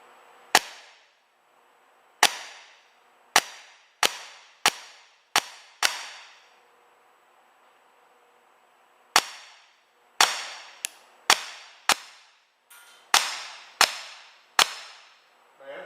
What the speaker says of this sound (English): Safety off. I'm ready to shoot.